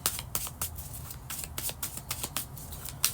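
Tarot cards being shuffled by hand, giving rapid, crisp riffling flicks in an uneven rhythm, close and moderately loud with no voices.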